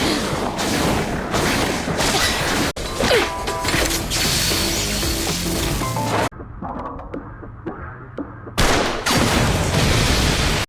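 Chaotic loud crashes and blasts of an explosion in the series Ninja Kamui, a sudden muffled lull, then another roaring burst of destruction.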